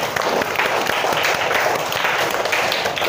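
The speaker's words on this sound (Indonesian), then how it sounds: "Sekali lagi kita beri aplaus untuk kita semua" A class of schoolchildren applauding in a classroom, a steady dense patter of many hands clapping continuously for a few seconds at close range.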